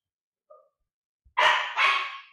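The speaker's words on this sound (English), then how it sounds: "Okay, there's the dog, sorry." A dog barks twice in quick succession, loud and close, after a short faint chirp, with silence around it in an otherwise quiet room.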